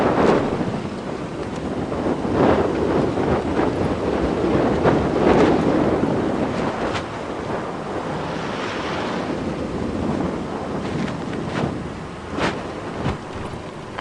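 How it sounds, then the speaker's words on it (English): Strong wind gusting across the microphone on an evening safari drive, a loud continuous roar with rushing surges and brief buffeting bursts throughout. "And the wind is attempting to blow my hat off as well."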